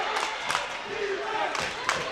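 Home crowd at a high school boys' basketball game, Woodland Hills at Gateway, cheering and roaring in a gym, with sustained loud crowd noise and a few sharper swells of shouting.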